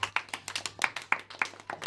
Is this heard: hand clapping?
yes